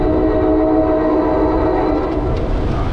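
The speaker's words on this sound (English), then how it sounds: "I hear a train." A train rolls past close by, its horn sounding as a loud, sustained tone over steady rumbling and rail noise, with no voices.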